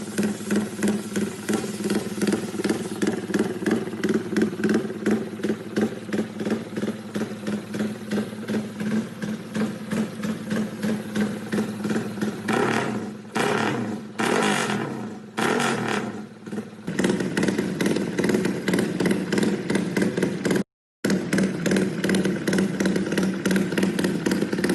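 A Suzuki GSX150 motorcycle engine with ECU tuned for rumble idle idles with a lumpy, loping rumble, pulsing unevenly up close, broken by a few short revs and a brief cut-out.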